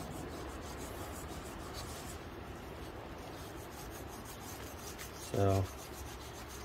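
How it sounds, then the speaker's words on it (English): Old finish being scraped off the wooden stock of a Springfield 1903 rifle: a steady, close, gritty rasping that runs throughout, with a brief dull knock near the end. "going in here, and we're just scraping."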